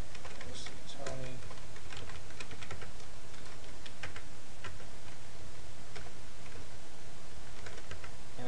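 Rapid, irregular clicking of computer keyboard keys as race results are entered manually into timing software, steady and moderately close, with a faint murmur in the background.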